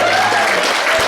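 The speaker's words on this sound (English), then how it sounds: "Steve, round of applause, please." Wedding guests applaud the groom as he rises for his speech, a brief burst of dense, loud clapping filling the room.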